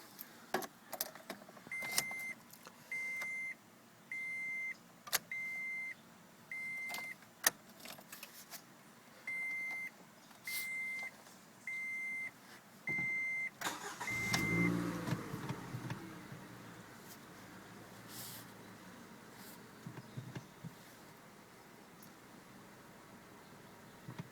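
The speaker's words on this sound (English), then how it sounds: "let's go ahead and get this car started, shall we?" A series of evenly spaced electronic chimes sounds, then a 2012 Scion tC engine with a lightly sport-tuned exhaust cranks to life and settles into a low, steady idle.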